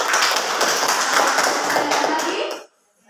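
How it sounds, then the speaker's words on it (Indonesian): Classroom students at a junior high school clap for a group of classmates, a dense, loud burst of many hands that holds steady for over two seconds and then stops abruptly. "tepuk tangan untuk kelompok 3."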